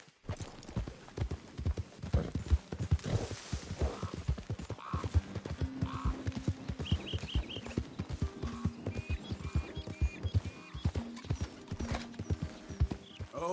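Horse hooves clip-clop steadily at a walking pace in a PS4 video game, close and continuous, with brief game music tones and occasional snorts in the background.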